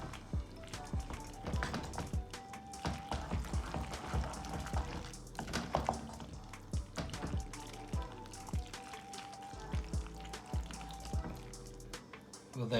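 Cooked pasta being stirred into cheese sauce for mac and cheese makes wet, squishy, sticky clicks and scrapes in an irregular rhythm, fairly close and moderately quiet.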